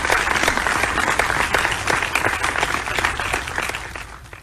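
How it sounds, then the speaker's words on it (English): An audience at a national research summit breaks into sustained, dense applause, steady and fairly loud throughout before tapering slightly at the end. "So let's give him a round of applause."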